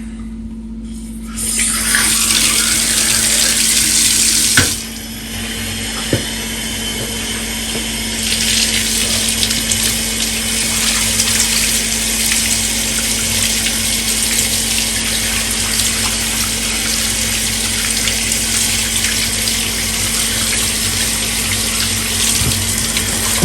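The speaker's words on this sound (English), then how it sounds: "start rinsing it off to get all that big stuff to come off the bottom" Tap water runs steadily and loudly, rinsing the dirt off a reusable K&N cabin air filter, with a sharp click as the flow starts and a continuous rushing hiss that has no voices over it.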